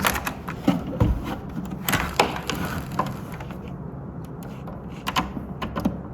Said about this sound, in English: I plugged in the keyboard to the back of the computer